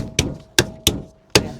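Four sharp hammer blows on a stuck wheel of a Suzuki Swift Sport raised on a jack, irregularly spaced metallic bangs, close and loud, each decaying quickly.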